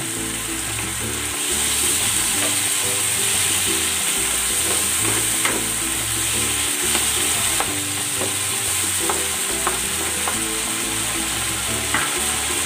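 Sautéed shrimp paste (bagoong alamang) sizzling steadily in a hot pan while a fish dish cooks, with continuous frying hiss and occasional scraping, clicking stirs, loud and close with no talking.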